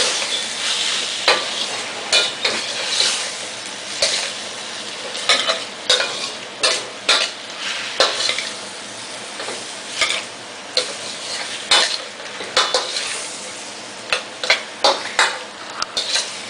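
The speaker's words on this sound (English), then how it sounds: "and give it a stir." Chop suey frying in a pot is stirred and tossed with a utensil, sharp scraping and clinking strokes recurring steadily over a constant close sizzle.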